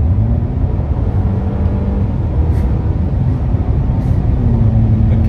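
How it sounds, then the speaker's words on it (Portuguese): A tuned turbocharged car making about 270 wheel horsepower gives a loud, continuous, close engine roar under hard acceleration, a dense rumble that stays steady throughout. "esse carro aqui tá com quase 270 cavalos de roda"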